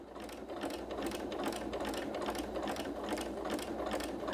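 A sewing machine stitches along toward a mitered fabric corner, its rapid rhythmic needle clatter running continuously and evenly, close up and moderately quiet.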